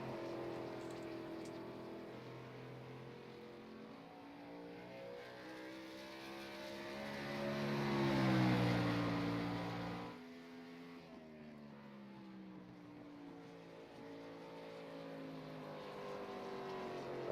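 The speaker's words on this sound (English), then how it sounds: "It sounded like he was cutting the engine off there" A stock race car engine in a sim racing game drones steadily, swells to a roar, then abruptly cuts out before resuming at a lower, even pitch, with no talk over it.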